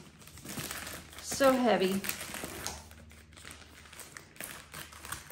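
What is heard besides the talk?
rustling of a box being handled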